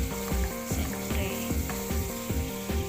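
Minced pork frying in a pan, a loud, steady sizzle throughout with rhythmic scraping strokes of a utensil stirring the meat.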